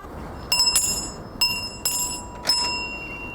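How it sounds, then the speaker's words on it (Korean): A Salvation Army charity hand bell rings in four bright, clear strokes, each with a lingering metallic shimmer, fairly close against a quiet background. "언제나 울려 퍼졌던 청명한 종소리"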